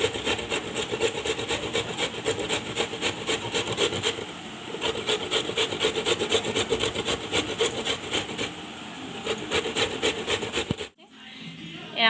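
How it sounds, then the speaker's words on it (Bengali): Peeled potatoes are rubbed and mashed by hand, a steady rough rhythmic scraping close by that runs continuously, then stops near the end. "আলুগুলোকে আমরা এরকমভাবে ঘষে ভালো করে ম্যাশ করে নেব"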